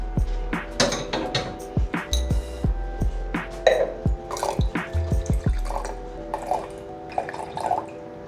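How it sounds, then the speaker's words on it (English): Apple cider poured into a glass, with splashy liquid trickles, drips and light glassy clinks in an irregular patter, close by and without talk. "I'm just going to pour a little bit in a glass and drink it myself"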